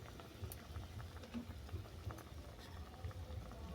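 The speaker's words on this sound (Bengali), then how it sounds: "আরও 2 মিনিট হয়ে গেছে, টকটা ফুটতে দিয়েছিলাম।" Sour fish curry with lemon and winter vegetables bubbling in a pot, a faint, steady simmer of small pops and gurgles that plays on its own with no voices.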